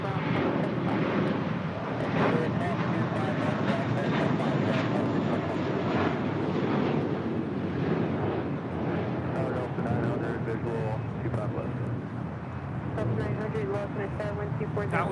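An American Airlines Airbus A321 departing LAX for Dallas-Fort Worth gives a broad, steady jet roar that holds loud for the whole stretch, heard from the airport with voices talking over it.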